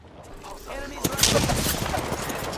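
Gunfire in a team shooter video game breaks out partway through, a burst of sharp shots followed by sustained rattling fire beneath a steady game soundscape.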